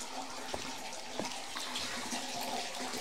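Creek water runs steadily into an underground cavern on Vancouver Island, a continuous rushing wash with faint splashes, close and constant.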